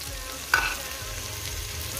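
Calabresa sausage frying in a pan gives a steady close sizzle with a brief utensil clatter near the start, no voices.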